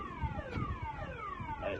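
A boat security system's alarm siren wails in rising and falling electronic sweeps, several overlapping tones gliding downward, moderately loud and close, with no talking.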